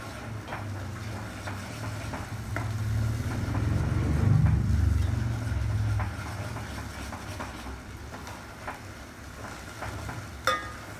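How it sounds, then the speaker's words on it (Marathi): Low bubbling sizzle of paste frying in oil, fairly close, with a steady rumbling undertone and occasional light clicks; no voices. "आता आपण ते तेलामध्ये तळत आहोत।"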